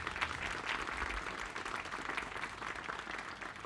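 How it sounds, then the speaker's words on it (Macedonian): An audience claps steadily and somewhat distantly to welcome the Keramia women's chamber choir at a concert, a dense, even patter lasting a few seconds. "Да ги поздравиме со еден аплауз."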